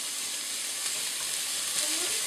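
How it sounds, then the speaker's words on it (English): Onions fry in a pressure cooker with a steady, close sizzle and hiss, a constant crackling bed of sound with no voices over it. "I've got the onions in there. I'm frying those up."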